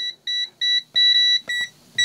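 A TOPTES gas leak detector beeps in a steady run of six short, loud electronic tones, and a second detector's beep joins in near the end. No one speaks.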